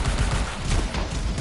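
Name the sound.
shooting at turrets in Anthem video game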